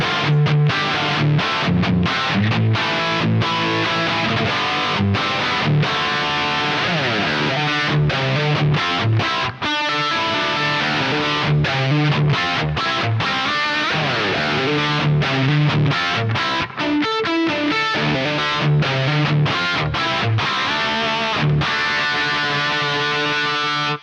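Thick, heavily distorted electric guitar riffing through a Kemper with a high-gain JCM 800 profile, chugging palm-muted chords, loud and continuous with no voices.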